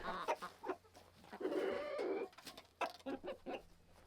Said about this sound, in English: if I let Michael Jackson, that white and black rooster, if I let him out